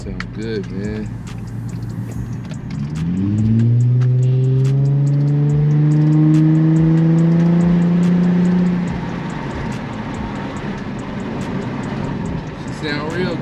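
An Infiniti G35 with freshly changed spark plugs, facing another problem, revs up while accelerating, its engine note rising smoothly and loudly over several seconds before easing off. Some talk is heard around it.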